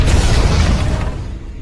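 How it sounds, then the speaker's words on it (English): Dynamite bomb explosion in a Western film, a deep heavy boom that rolls and slowly fades, loud and alone. "the dynamite bomb exploded"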